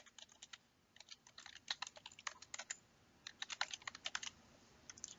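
Typing on a computer keyboard as a driver's email address is entered, a quiet run of quick clicking keystrokes in uneven bursts with short pauses, close by and with no talking.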